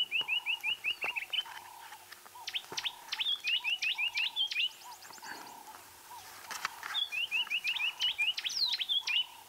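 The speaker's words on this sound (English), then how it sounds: "I mean, the robin is so close by and so loud." A scrub robin sings loud and very close on a sunrise safari, delivering repeated bursts of sharp whistled and chirping phrases over lower bleating notes, with short gaps between the phrases.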